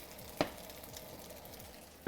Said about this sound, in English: So we are actually frying this in butter right now.